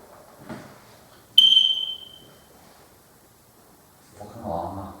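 A motion alarm sensor in a farm lodge house gives one short, sharp electronic beep that fades quickly. Faint rustling comes before it, and a muffled low murmur follows a few seconds later.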